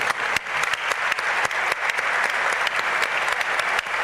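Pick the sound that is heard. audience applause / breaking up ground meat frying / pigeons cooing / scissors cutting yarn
audience applause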